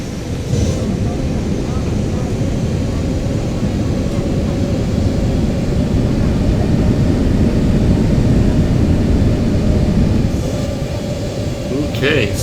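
Steady, loud airplane engine drone of a simulated aircraft on approach with full flaps in a flight simulator, a continuous low rumble holding for the whole stretch with no talk over it.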